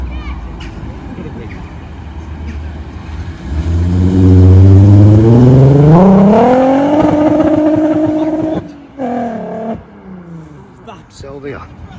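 A car at a meet with burnouts and drifting accelerates hard, its engine note rising through revs with audible gear changes, loud and near, then falls away amid crowd noise and voices.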